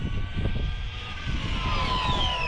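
An RC short-course truck with a Hobbywing XR8 controller, 3660 3600kv motor and 3-cell lipo makes a speed run. A continuous high motor whine climbs in pitch as it passes, with a steady rumble underneath and no voices.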